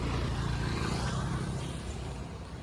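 A car near Sawantwadi in the Konkan region gives off a loud, steady road rumble and engine drone that eases slightly toward the end, with no voices.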